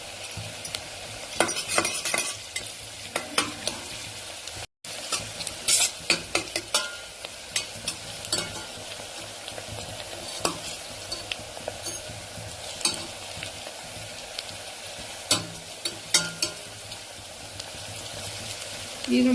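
Onions and green chillies fry and sizzle in a pan while a utensil stirs and clinks against it steadily, close up, with soft hiss underneath.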